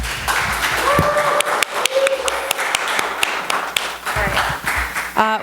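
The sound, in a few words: audience applause for the panel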